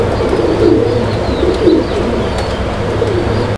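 A pair of Mundian fancy pigeons cooing close by, soft low rolling coos repeating over a steady background of other birds chirping.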